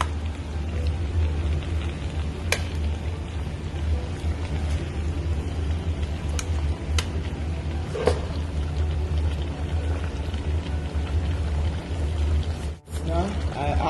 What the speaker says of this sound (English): Now I have to add a little bit water.